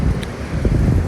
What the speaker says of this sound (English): Didn't realize it was so windy though.